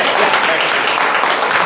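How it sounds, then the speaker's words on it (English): Steady, close applause from a Toastmasters meeting audience, a thick continuous wash of hand claps with a voice blended in beneath it. "So we will clap once again."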